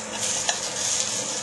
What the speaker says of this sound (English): And then we're going to carefully put it into our pan.